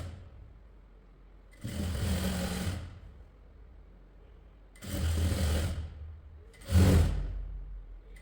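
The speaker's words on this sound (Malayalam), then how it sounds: "ഇനി ടോപ്പിൻ്റെ ഫ്രണ്ട് പോർഷനിൽ താഴ്ഭാഗത്ത് ലേസ് സ്റ്റിച്ച് ചെയ്ത് കൊടുക്കുന്നുണ്ട്" A sewing machine stitches lace onto the front hem of a short kurti top in three runs, each a steady whirring hum lasting a second or so, with quiet pauses between them.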